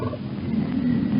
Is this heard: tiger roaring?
yes